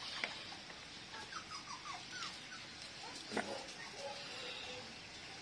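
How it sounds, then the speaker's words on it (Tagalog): Dogs fight and bicker in the distance, with faint yelps, whines and sharp barks scattered over a quiet indoor background while someone works on restoring a wave 100 motorcycle. "Habang nag-iingay ang aso."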